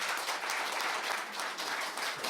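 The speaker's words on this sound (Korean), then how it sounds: "두 분 박수로 논제 제시 고마움을 표시하겠습니다" A forum audience at a panel session on the Asian water industry gives sustained applause to thank two panelists, the even, continuous clapping filling the whole moment.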